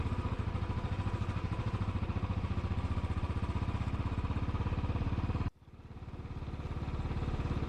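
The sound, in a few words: motorcycle riding through floodgates in Gloucestershire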